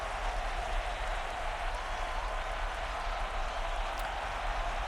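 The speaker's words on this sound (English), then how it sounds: "You can hear this crowd just absolutely pouring all their heart into this game" Football crowd at an Iowa Storm home game roaring and applauding, a dense continuous wash of cheering that stays loud and even, with no speech on top.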